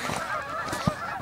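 Several geese honk repeatedly in overlapping nasal calls, fairly close and continuous, with one louder low honk near the end; nobody speaks.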